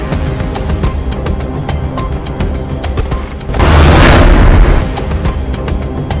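A bomb blast in Damascus bursts out midway as a loud, broad roaring boom lasting about a second, standing out against a busier, crackling background before it fades back down.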